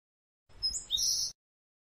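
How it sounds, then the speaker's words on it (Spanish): Birds singing on a sunny day, a brief, clear burst of high chirps and whistles, close and fairly loud over a faint low rumble, lasting under a second. "Y los pájaros cantan."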